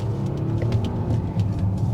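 A 2023 Volvo XC90 three-row SUV accelerating at full throttle, heard from inside the cabin as a steady low engine and road rumble with a dense, even drone throughout, with no talking.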